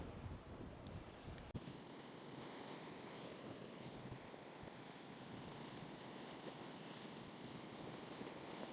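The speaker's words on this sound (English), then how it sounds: "when you're on the edge like this, the wind comes up the cliffs" Wind rushes up the sea cliffs at the Levant Mine, a steady broadband roar buffeting the microphone with a faint surf-like wash beneath and one brief knock near the start.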